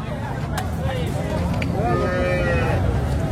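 A cow moos in a long, drawn-out call at a dairy farm holding a herd of about thirty cows, loud and close, over steady background noise and people talking.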